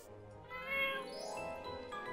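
A cat in the My Time at Portia video game gives a drawn-out, rising and falling meow, clear and fairly quiet, with no talk over it.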